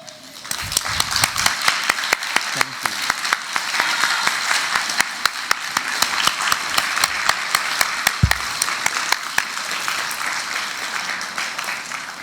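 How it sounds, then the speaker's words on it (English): Audience applause at a 2018 high school commencement ceremony in a large hall, steady and continuous with sharp individual claps standing out, plus a brief low thump partway through. "give a big hand clap to your parents, family, friends, and staff for all that they've done to support you"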